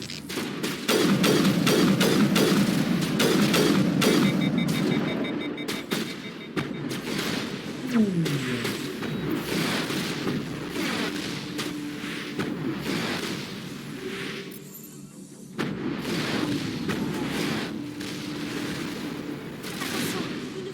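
Heavy gunfire and cannon blasts in the Mass Effect Legendary Edition game, with loud bursts of shots repeating throughout under the game's sound and someone talking over it.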